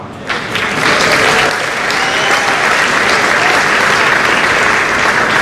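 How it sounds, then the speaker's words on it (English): A graduation audience claps steadily for a student receiving a scholarship award, a full, continuous wash of applause from a large crowd that holds at an even level throughout. "Feel free to clap after every single one."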